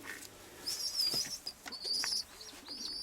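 Pigeons in a loft give soft coos along with brief chirps and high bird calls, close by and fairly quiet, arriving in short scattered bursts.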